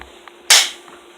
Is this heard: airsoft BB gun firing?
yes